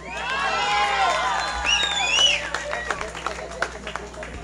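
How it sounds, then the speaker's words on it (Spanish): A live concert crowd cheering and whooping, with high shouts and squeals sweeping over a background of clapping, the voices fading as scattered applause continues to the end. "Ese aplauso para Pablito"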